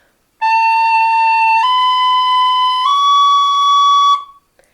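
An Irish tin whistle plays three long, clear sustained notes, each stepping slightly higher, close and bright against silence.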